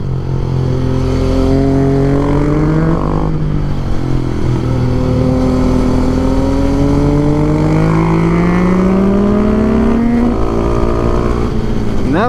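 A Husqvarna 701 motorcycle engine revs loud and close while riding the Dragon road, its pitch climbing and dropping through repeated accelerations and gear changes for the full stretch, with no talking.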